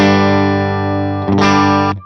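Electric guitar played through a Universal Audio amp simulator pedal on its blue speaker setting with compression, delay and reverb, sustained distorted chords ringing, then a fresh strummed chord that holds briefly before cutting off.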